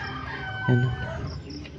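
A hen with her newly hatched chicks clucks once, a short, close sound over a soft background murmur.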